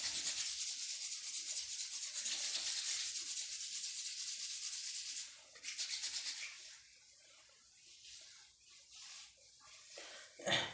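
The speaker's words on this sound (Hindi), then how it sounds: "अब दोनों हाथ को एक बार रब कर लेंगे" Two palms rub briskly together in steady, continuous friction for several seconds during a yoga warm-up, then the rubbing slows into softer, intermittent strokes, close and alone without talk.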